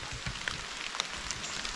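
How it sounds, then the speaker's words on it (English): Rain patters steadily on the water of a spring while paddling, a close, even hiss with scattered small drop ticks throughout. "Even in the rain, and it's still raining, and there's more to come"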